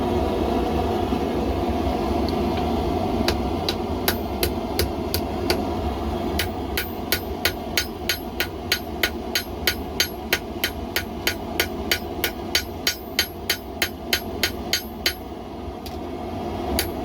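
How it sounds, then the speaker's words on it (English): Hammer strikes on a knife blade at the forge as bevels are worked in, sharp metallic blows in a steady quickening rhythm over a constant low roar of the fire. "Hammering in the bevels, that's why I got it tipped a little bit."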